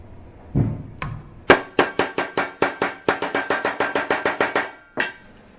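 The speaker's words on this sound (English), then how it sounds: "we'll start with the ball peen hammer. Ball peen side down." A ball peen hammer strikes an Auxbeam LED light bar about twenty times in a quick, steady rhythm, each hit sharp and ringing, close by, with no voices.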